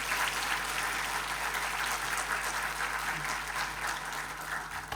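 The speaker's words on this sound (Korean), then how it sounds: "우리 박수로 모시도록 하겠습니다." A church service congregation claps steadily to welcome the pastor, a sustained, even burst of applause filling the room at moderate loudness.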